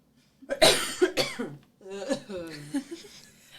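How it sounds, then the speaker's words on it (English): A couple of sharp, close coughs, followed by a voice murmuring and chuckling softly. "I'm going to cough"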